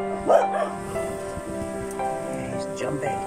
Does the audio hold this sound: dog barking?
yes